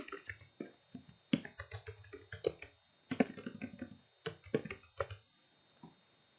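Close, crisp keystrokes on a computer keyboard come in quick bursts of clicks separated by short pauses, with no voices.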